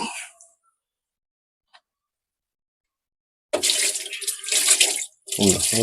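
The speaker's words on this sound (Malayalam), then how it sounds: "വെള്ളം ഒഴിച്ച് കഴുകും" Water poured over a washing machine part to rinse it after brushing, a brief splash at the start, then a longer loud gushing pour that pauses briefly and resumes, close by.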